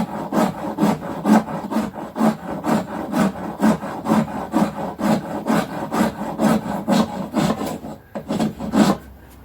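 Rasping a hard red beech root, a native New Zealand wood, into a Native flute: steady, evenly spaced scraping strokes, about two per second, close and loud, with a brief pause near the end before a few final strokes.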